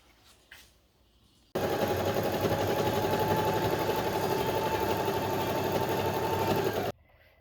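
A sewing machine runs steadily while stitching curtain liners together, starting abruptly after a quiet moment and holding a dense, even mechanical whir for about five seconds before it stops.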